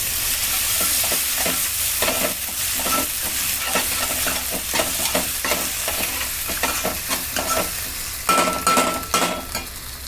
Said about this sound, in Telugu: ఉల్లిపాయలు బ్రౌన్గా వేగాలి ఇందులో కొంచెం అల్లం వెల్లి పేస్ట్ అన్నది వేసుకోండి